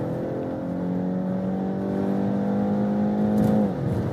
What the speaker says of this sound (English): you can just use the S shifting mode. So when I accelerate out, then I also have good acceleration.